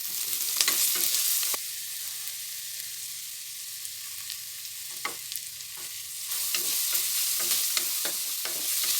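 Onion with ginger garlic paste frying in a pan for mushroom biryani, a steady close sizzle with frequent scraping stirs of a spoon, growing slightly louder toward the end.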